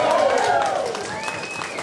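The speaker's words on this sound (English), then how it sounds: "So big round of applause for" A crowd at an open training session at BBM Motivation gives a steady, dense round of applause, with voices and cheering mixed into the wash of clapping throughout.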